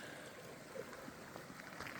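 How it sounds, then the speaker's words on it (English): Gold Creek, a mountain stream running beside a hiking trail and dirt road, gives a steady, even rush of flowing water, moderately close and unbroken throughout, with no talking. "You can hear Gold Creek, which kind of runs"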